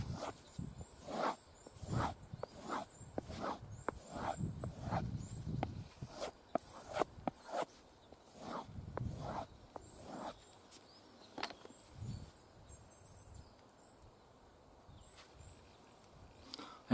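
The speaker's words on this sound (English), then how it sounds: "Just give it a quick strop." A jaakaripuukko 110 knife blade is given a quick strop, a series of soft, rhythmic swiping strokes, fairly quiet and close, that thin out and stop partway through.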